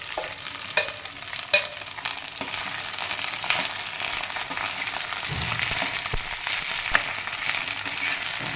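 Okra and chopped shallots frying in oil for vendakkai masala kulambu, a loud continuous sizzle with occasional clinks and scrapes of a stirring spoon.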